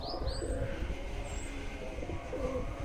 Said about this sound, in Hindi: कबूतर सारे बाहर फिर रहे हैं।